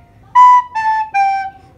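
Three blown recorder notes, each a clear whistle-like tone held about a quarter to half second, stepping slightly lower in pitch each time, close and alone with no talk.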